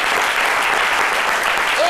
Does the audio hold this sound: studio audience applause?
yes